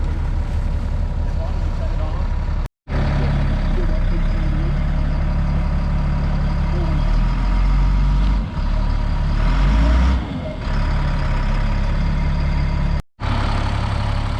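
A truck's engine rumbles steadily while hauling a race trailer, a continuous low drone with brief gaps and some shifting, heavier bursts near the end; voices are faint and no clear speech stands out.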